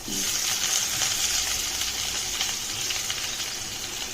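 Chopped ginger, garlic, green chilies and two onions sautéing in a pan, a continuous close, even sizzle with faint scraping and crackle throughout.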